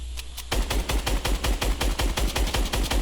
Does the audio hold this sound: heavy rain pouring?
no